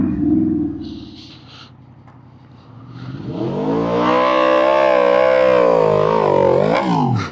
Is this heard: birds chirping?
no